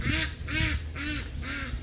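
Several ducks quack in a steady run of four loud, close calls, one roughly every half second, on a farm pasture with no talking.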